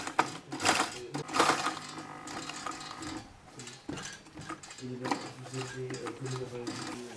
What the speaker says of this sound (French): Là, on va surpiquer le col.